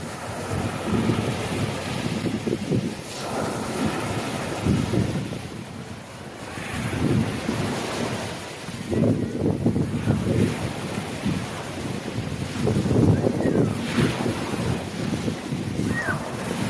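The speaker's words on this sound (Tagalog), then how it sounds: "Ito yung Tinagong dagat." Sea waves and wind at Tinagong Dagat, a steady wash of surf with gusts buffeting the microphone, swelling in several surges over the whole stretch, with no talk.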